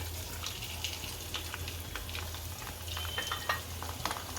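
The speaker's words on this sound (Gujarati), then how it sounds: "આપણું તેલ ગરમ થઈ ગયું છે, આ હિંગ નાખશું, આ લસણ નાખશું" Asafoetida and garlic fry in hot oil in a home kitchen pan, a steady, close sizzle with soft crackles running throughout, no voices.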